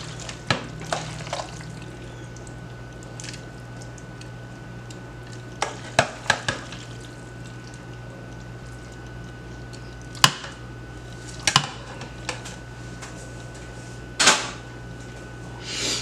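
Creamy shrimp fettuccine alfredo is served onto a plate: scattered clinks and scrapes of a utensil against the pan and plate over a steady low hum.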